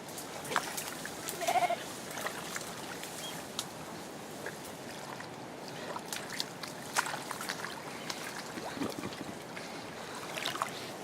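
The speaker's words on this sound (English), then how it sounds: "there's a sheep stuck in the mud." Faint bleats from a sheep stuck in mud come through now and then over a quiet outdoor riverside background with soft rustling and splashing, the animal sounding distant.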